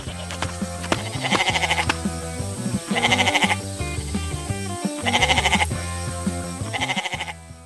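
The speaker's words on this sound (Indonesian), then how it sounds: "dilihatlah kambing putih yang sedang bermain di belakang pagar kayu." A white goat in an animated cartoon bleats behind a wooden fence, its repeated calls rising in several bursts over a busy, tuneful music bed throughout.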